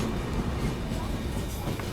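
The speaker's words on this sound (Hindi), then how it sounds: "चलो अभी अपनी ट्रेन भी निकल रही है और ये रोरो ट्रेन भी निकल रही है यहाँ से।" A Konkan Railway passenger train pulls out of Rajapur Road station, giving a steady, dense low rumble of rolling wheels and carriages close by, with a faint voice underneath.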